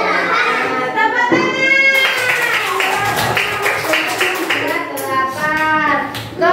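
Kindergarten children clapping hands in class, a burst of sharp claps mixed with children's voices and an adult talking over them.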